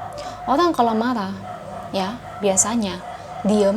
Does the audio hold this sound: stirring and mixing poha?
no